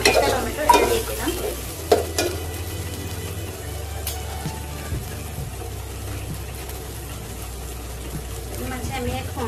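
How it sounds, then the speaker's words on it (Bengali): Chopped tomato goes into turmeric in a frying pan and is stirred, a few loud clattering scrapes at first, then a steady soft sizzle with occasional spoon knocks, close, with a voice talking over it. "হলুদ দিয়ে নাড়ার পরে আমি এখানে কুচি করে টমেটো রেখেছিলাম, 1টা টমেটো এটা দিয়ে দিলাম।"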